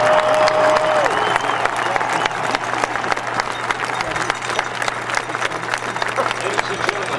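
A large stadium crowd at the Armed Forces Bowl applauds and cheers for newly sworn-in United States military members, dense continuous clapping with a brief tone at the start and a low steady hum beneath.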